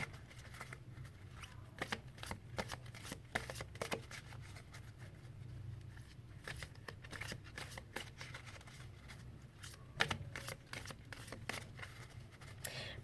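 Tarot cards being shuffled by hand, a quiet close run of crisp riffling flicks and soft slaps repeating irregularly over a faint low hum.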